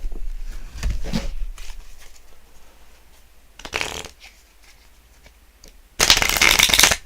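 Playing cards are riffle shuffled several times, each burst a quick fluttering rip of card edges, the last one loudest and closest, with quieter handling in between.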